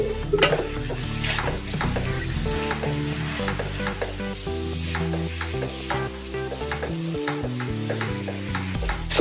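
Gram flour roasting in oil for chana dal pulao, a steady close sizzle with repeated clinks of a spoon stirring against the pan, under continuous music and no talk.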